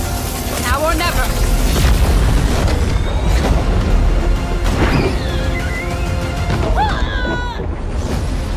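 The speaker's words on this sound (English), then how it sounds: "Railgun powered and ready to fire." Sojourn's railgun firing in Overwatch 2 gameplay: dense, loud bursts of energy shots, booms and crashes over a driving backdrop, with rising electronic whines and character voice lines mixed in.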